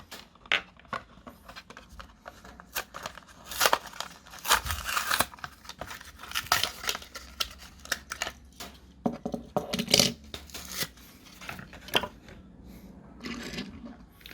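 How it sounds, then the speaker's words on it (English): Packaging for a Mini Cooper S toy car being torn and handled during unboxing, a busy series of irregular sharp rips, crinkles and cardboard scrapes up close, with quiet gaps between bursts. "now I shall unbox the Mini Cooper"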